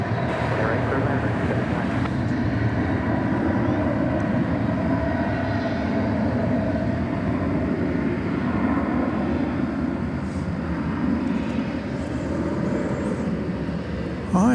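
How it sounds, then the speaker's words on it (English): An American Airlines Boeing 737-800 lands at DFW Airport, a sustained, loud jet engine roar with a shifting whine, and a voice talks faintly underneath. "This is American Flight 564. It is a 737-800."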